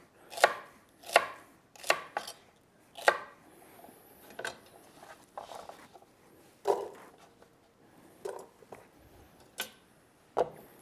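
A knife chopping celeriac into pieces on a board, a run of distinct sharp chops close by, quick at first and then more spaced out, with no talking.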